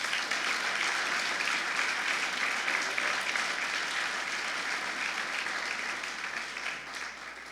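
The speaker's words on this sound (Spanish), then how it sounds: "denle un fuerte aplauso a Jesús" Strong, sustained applause from a church congregation during a sermon, dense clapping holding steady for several seconds before easing slightly at the end.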